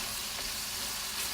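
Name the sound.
garlic frying in a pan for drunken noodles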